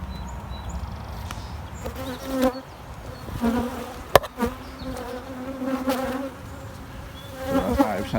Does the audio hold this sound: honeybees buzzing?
yes